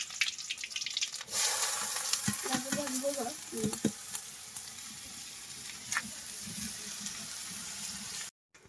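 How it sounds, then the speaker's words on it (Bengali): Carrots frying with onion and chili in a home kitchen pan, a steady close sizzle after a quiet start, with intermittent scraping stirs and a brief running-water sound, ending abruptly. "পেঁয়াজ আর মরিচ দিয়ে ভাজি করছি"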